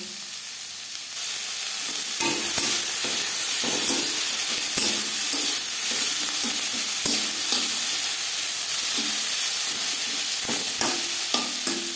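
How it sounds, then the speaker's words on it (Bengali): Sliced onions frying lightly in a pan for a Bengali aloo mutton curry, a steady close sizzle with periodic scraping clicks of stirring, no voices. "পেঁয়াজ হালকা করে ভেজে নেব"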